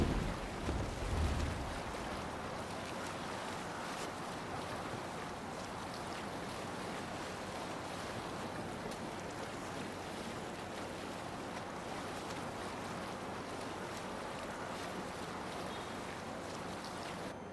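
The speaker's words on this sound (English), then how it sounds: "Shall we raise the sail, Eivor? Sail out" Sailing ship at sea in the video game Assassin's Creed Valhalla, with steady waves and surf washing against the hull and wind rushing over it, a constant wide wash of sound with no speech.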